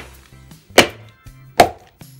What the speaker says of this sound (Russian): Мы попробуем его разбить на полу.